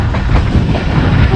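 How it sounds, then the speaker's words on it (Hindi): Rawal Express passenger train running on rails at about 74 km/h, a loud, continuous rumbling roar with wind buffeting the microphone. "अभी 74 किलोमीटर के हिसाब से ये रन कर रही है, दौड़ रही है रावल एक्सप्रेस"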